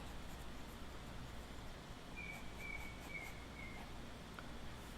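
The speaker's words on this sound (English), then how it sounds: "You hear these birds?" Wild birds chirp faintly in the distance outdoors, a thin whistled call repeating briefly midway through over a steady wash of background noise.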